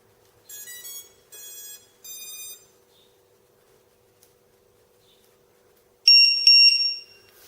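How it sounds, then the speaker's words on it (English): An inexpensive battery alarm beeper, wired through an extension lead to a balance plug, sounds three short shrill beeps, falls silent for several seconds, then gives a louder, harsher double burst near the end, close and alone. "so I'm just going to demonstrate this alarm"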